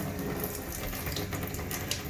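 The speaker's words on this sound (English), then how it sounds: "Turn the sink on. Some nice, cool, steady water." A sink tap runs a steady stream of cool water while a car's cabin filter is rinsed, a loud, continuous close splashing hiss with no voices.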